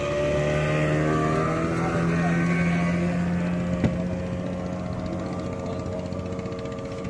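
A small motor boat or trawler engine drones steadily on the water, a close, continuous hum with a constant pitch that runs the whole time without any talk.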